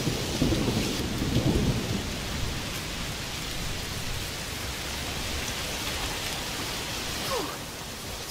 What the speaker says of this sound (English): Must be a heat storm.